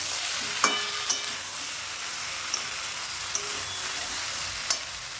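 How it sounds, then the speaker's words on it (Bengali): Neem shukto vegetables stirred in a pan over a steady sizzle, with a handful of sharp scraping clicks from the spoon spread through the stretch; no voices. "2 মিনিট পর আবার নেড়ে দিলাম।"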